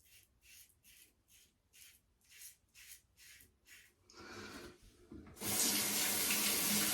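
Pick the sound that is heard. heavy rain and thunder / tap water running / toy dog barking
tap water running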